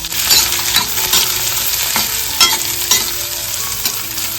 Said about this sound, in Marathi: आता ना फोडणी देण्यासाठी कडेमध्ये तेल घालून घेतलंय याच्यामध्ये राई घालून घेतोय